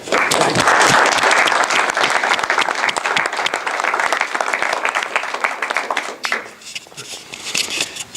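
An audience claps loudly and steadily for a role-model speaker at a community-service recognition event, dense sustained applause that thins and fades toward the end before a brief renewed swell.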